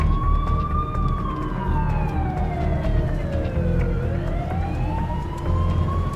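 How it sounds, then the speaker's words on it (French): Wailing emergency vehicle sirens rise and fall continuously over a steady low rumble of traffic, loud and close. "On entend plein de sirènes."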